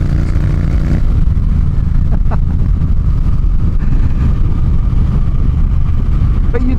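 A Triumph T120 motorcycle engine while riding, a steady low rumble droning throughout with wind noise, someone speaking over it.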